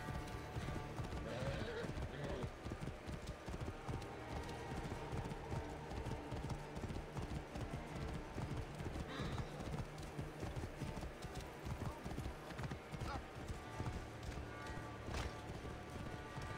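Horse hooves clip-clop steadily in the Assassin's Creed Origins video game, with a whinny partway through and a voice speaking over the gameplay.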